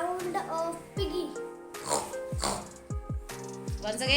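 A third-grade student imitates a pig's oink, making several short, rough grunting squeals in quick succession, close to the listener, with bits of voiced noise between them.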